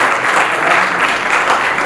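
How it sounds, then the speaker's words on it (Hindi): Steady crowd applause at a Bhojpuri Industry Premier League player auction event, a loud, continuous wash of clapping without pause. "आप सबकी तालियों के लिए धन्यवाद।"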